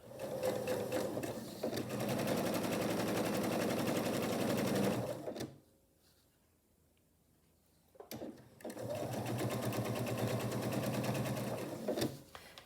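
A sewing machine runs a straight seam along a quilt strip set, starting at the selvage. It makes two long steady bursts of rapid stitching with a quiet pause between them, close and loud, with no talking.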